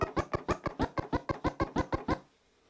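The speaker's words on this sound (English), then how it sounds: "A chirp scratch sounds like this." Quick chirp scratches cut on a DJ turntable record, about a dozen sharp rhythmic bursts in a steady run, close and clear, then stopping abruptly into quiet.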